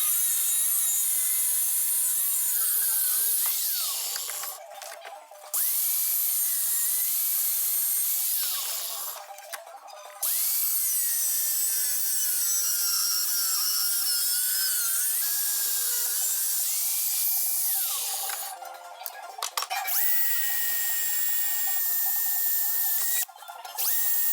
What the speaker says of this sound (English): So now I'm going to go cut along here to make my adapter plate.